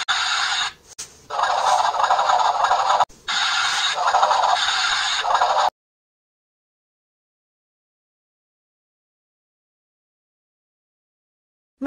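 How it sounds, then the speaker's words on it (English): A wooden toy kitchen's electronic stove plays a hissing, crackling sound effect for about six seconds, with a brief dropout after the first second. Near silence follows. "The new electronic stove can emit three sounds, be controlled by a button,"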